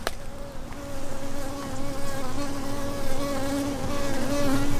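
Dense swarm of honeybees buzzing steadily and close at an apiary hive during work on a drone-laying colony, a continuous droning hum that swells slightly in places, with no talking.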